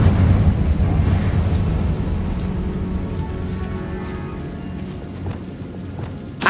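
A loud, rumbling magical explosion from a Confringo fire spell blast inside a tomb in the Hogwarts Legacy video game, booming at the start then slowly decaying into a long low roar, with no talking.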